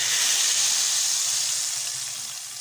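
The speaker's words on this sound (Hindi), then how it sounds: "यहाँ पे हम ले लेंगे 4 से 5 अदद गोल वाली लाल मिर्चें, और इन्हें पका लेंगे 1 से 2 मिनट के लिए।" Four or five round red chilies fry in hot oil for a kadhi tadka, a bright continuous sizzle that holds steady and gradually softens.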